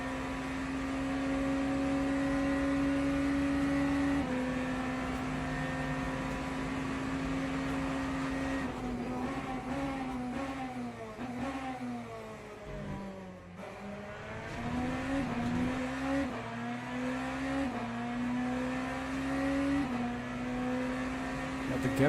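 Race car engine in a Le Mans racing video game, a steady high droning whine that dips and sweeps through gear changes as the car overtakes the GT3 leader, continuous and close.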